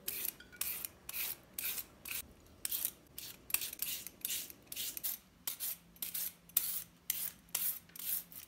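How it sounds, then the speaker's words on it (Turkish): Potatoes, carrot and zucchini are sliced thinly on a handheld cutting tool, making a regular series of quick, crisp scraping strokes, about two per second, close and fairly quiet, with a faint low hum behind. "Ben şöyle bir kesme aparatıyla patatesli hepsini şu şekilde böyle ince ince olacak şekilde kesiyorum."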